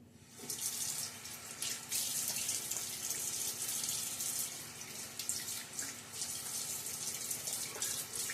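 A tap runs steadily into a sink as cool water is used for rinsing after a shave, a close, continuous splashing stream with small surges and no talking.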